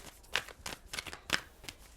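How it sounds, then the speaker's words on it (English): A deck of tarot cards is shuffled by hand in a quiet room, giving four or five soft, crisp riffling bursts at a steady pace, close and fairly faint. "2 more shuffles."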